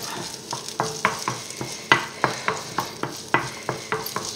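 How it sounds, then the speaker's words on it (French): A bolognese sauce sautés in hot oil in a pan, stirred with a rhythmic series of scraping spoon strokes about every third of a second over a low steady sizzle, close and without voices. "Allez, on remue, vous voyez bien, très bien. Là, on fait revenir."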